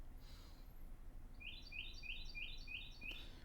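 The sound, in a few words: bird chirping loudly outside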